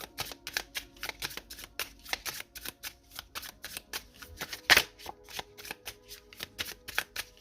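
Tarot cards shuffled by hand in a steady run of soft riffling flicks, close and fairly quiet, with one sharper slap of the deck partway through and no talking.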